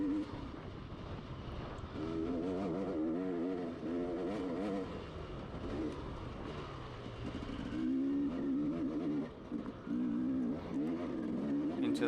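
A motorcycle engine is held at open throttle on a lap of the Wolwekloof TT trail, its pitch wavering and climbing in a steady drone, moderately loud, with wind noise and no talk.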